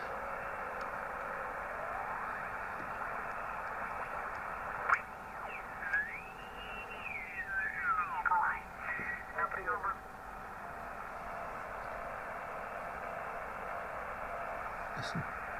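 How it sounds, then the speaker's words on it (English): A Yaesu FT101 ham transceiver hisses with steady band static and interference, broken midway by warbling, sweeping tones and crackling bursts before the constant noise floor returns. "A lot of interference on the band."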